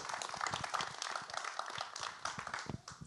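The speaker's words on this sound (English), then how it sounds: "One round of applause for our speakers today." Audience applause at a public history talk on the WWII detention of enemy aliens on Angel Island: dense, steady clapping from many hands, fairly soft and distant, lasting about three seconds with no one speaking over it.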